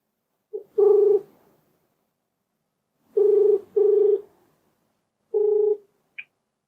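A telephone sounds a few electronic tones while a call is placed, with clean single and paired beeps separated by silent gaps and ending in a short higher blip.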